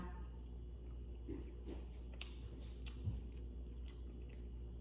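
Soft, close chewing of steamed fish with a spicy jaew dip, quiet moist mouth sounds and a few small squishy bites over a low steady background hum.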